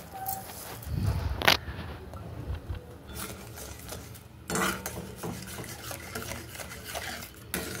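A spoon clinks and scrapes around a pot while sugar is mixed into a grape pudding mixture, a sharp clank early on followed by busy metallic stirring and rustles, close by and moderately quiet.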